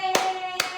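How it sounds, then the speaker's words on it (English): Two sharp hand claps about half a second apart ring out over a steady sustained musical tone, close and fairly loud. "Oh, I even hear Caroline clapping."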